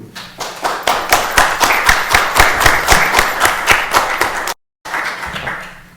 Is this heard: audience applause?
yes